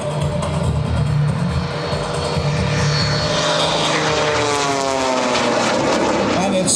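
A Stearman biplane with a 450 horsepower radial engine drones loudly and steadily overhead at an airshow, its engine rumble rising and shifting as it passes close by.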